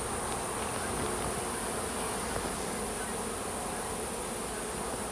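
Dense, continuous buzzing of a large honeybee swarm, loud and close, steady throughout with no voices.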